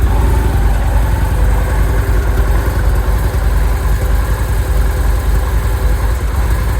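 A standard Victory Cross Roads V-twin motorcycle with stock pipes and low mileage idles steadily, a quiet, even low rumble that holds constant throughout with no talk over it.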